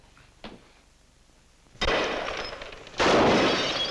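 Gunfire in a 1948 film: after a faint early crack, two loud bursts land roughly a second apart, each followed by a sustained harsh noisy wash, with no voices.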